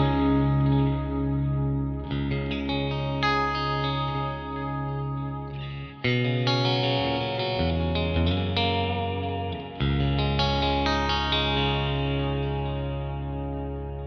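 Clean electric guitar through a Neural DSP Archetype Plini amp plug-in with reverb and delay and no overdrive or compression, playing ringing chords and melodic lines with lush, shimmering tails, close and steady throughout with no talking.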